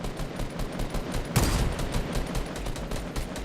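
Fortnite gunfire from an M4 rifle, a quick string of rapid shots with one sharper, louder burst midway, fairly faint and with no talk over it.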